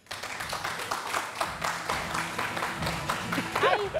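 Studio audience at a French TV show applauding the sponsors, steady clapping throughout with a host's voice speaking over the applause near the end.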